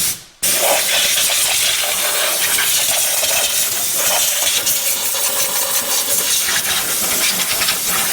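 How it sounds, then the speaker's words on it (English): A loud, continuous hiss of compressed air blasting dust out of a BMW X N55 inline-six engine bay, in bursts, with faint rattling and small clicks underneath, close up and without talk. "I'm going to blow all the dust out using compressed air"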